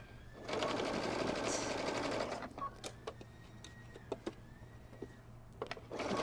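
A sewing machine stitches robe fabric in one continuous close run of steady mechanical whirring, then stops, leaving faint handling clicks and small knocks; a back stitch is made at the end of the seam.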